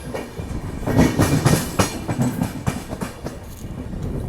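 The Ajmer Mysuru Express rolls along the tracks near Vadodara, loud and close with rhythmic clickety-clack from the wheels and swells of rattling from the carriages.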